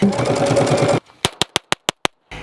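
A dense, buzzing burst of rapid gunfire, then six sharp, loud shots from a Staccato XC compensated pistol in quick, even succession, and one more crack at the very end.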